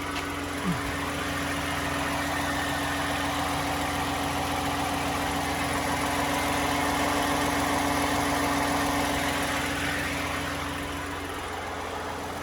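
A 2015 Toyota Highlander 2GR-FE engine idles after an oil change with a steady, even mid-pitched hum and light vibration, unbroken from start to finish and close by, with no talk.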